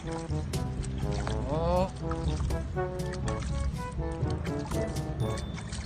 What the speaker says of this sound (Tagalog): Dili nimo biglaon ang tubig mga kapare kay basig masubraan og tubig